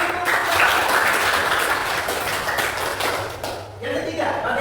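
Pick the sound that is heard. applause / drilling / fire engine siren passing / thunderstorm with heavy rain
applause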